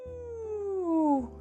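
A single human voice imitates a firefighter truck siren as a vocal exercise, one long sustained glide falling smoothly from high to low pitch, loud and close with no other sounds.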